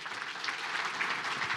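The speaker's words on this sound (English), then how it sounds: "One more round of applause for Vered." A lunch keynote audience claps in a brief, steady burst of applause, fairly faint and without voices.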